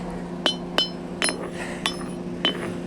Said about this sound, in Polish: Nie mogę tak machnąć młotkiem jak przedtem, że aż za głowy.